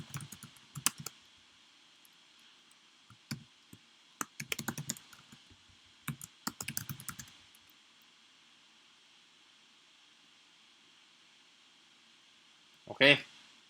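A password being typed on a computer keyboard in quiet bursts of soft key clicks spread over several seconds, then one louder clack near the end, with long near-silent gaps between.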